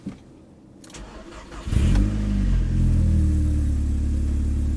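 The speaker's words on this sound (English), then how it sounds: "And while we're outside, we may as well start the Audi." An Audi car engine starts outdoors: a quiet background gives way to a short cranking burst, then the engine catches with a loud flare and settles into a steady, close idle hum.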